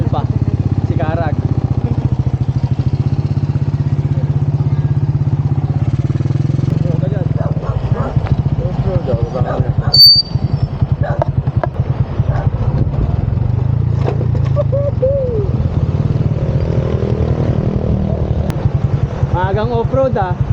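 A Honda Alpha motorcycle's engine drones steadily during a ride on a road, a constant loud hum with some clatter, while a rider talks over it.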